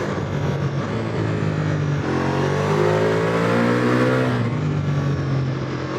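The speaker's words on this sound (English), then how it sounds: "Listen to that engine." A Ducati Multistrada V4 S motorcycle engine revs while riding, loud and close, the pitch climbing steadily through a long pull, dropping at a shift, then rising again under rushing wind.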